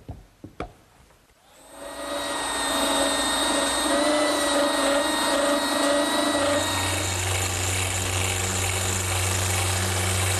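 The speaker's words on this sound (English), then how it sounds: "now I'm sanding the dowels flush using my belt sander" A couple of knocks, then a belt sander starts up and runs with a loud, steady whine that deepens as it bites into wooden dowels, sanding them flush.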